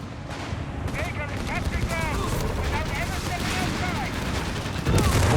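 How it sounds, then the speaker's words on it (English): Mortar half-track fire in the Company of Heroes 3 video game: a dense, continuous battle din of gunfire and explosive bursts, with a commentator's voice running underneath throughout. "It's taking some mortar half-track fire, I think, those bazookas"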